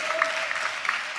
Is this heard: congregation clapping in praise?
yes